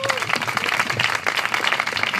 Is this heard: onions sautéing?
no